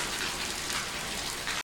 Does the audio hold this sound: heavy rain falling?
yes